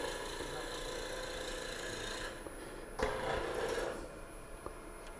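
A skew chisel rubs across a spinning wooden box on a lathe, giving a steady close rasping hiss that swells briefly near the end, with a faint motor hum underneath.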